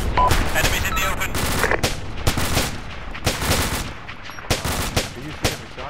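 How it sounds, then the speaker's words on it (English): Rapid gunfire from automatic weapons during a firefight on a hill line, loud repeated bursts of shots and cracks, with voices shouting over them. "Fucking rapid fire, mate."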